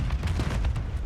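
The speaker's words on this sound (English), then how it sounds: "The clang of frag grenades." Frag grenade explosions in a Call of Duty search-and-destroy match: a short burst of several rapid booming blasts and crackling pops in quick succession, loud and close, with no talking.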